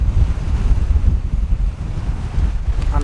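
Sea waves break against rocks on the Isle of Harris coast, a loud, close, continuous churning roar of surf mixed with heavy wind buffeting the microphone and no voices.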